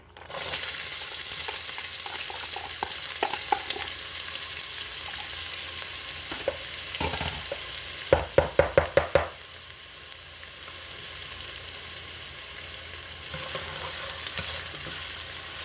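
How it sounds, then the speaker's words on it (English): Chopped onion and green pepper saute in half a cup of vegetable oil in a pan for lasagna. A steady, close, loud sizzle runs throughout, with a quick series of sharp utensil clicks against the pan midway. "this we're gonna saute it"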